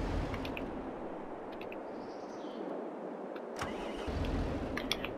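A tractor or farm vehicle engine idles in a farming video game, a steady low rumble that keeps going almost without a break, with small clicks and faint bird chirps above it.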